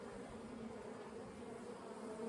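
Italian Buckfast honey bees in a hive make a dense, continuous buzzing hum at close range, steady and unbroken, with no talking.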